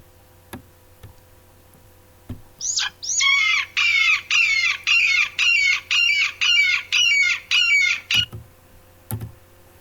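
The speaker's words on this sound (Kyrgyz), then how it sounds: "Бүркүттүн шаңшыганын угалык." A golden eagle calls in a series of about ten sharp, high yelping notes in an even, quick rhythm, loud and close, with a few faint clicks before and after and no voices.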